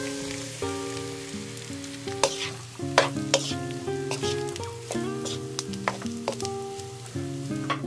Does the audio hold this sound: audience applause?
no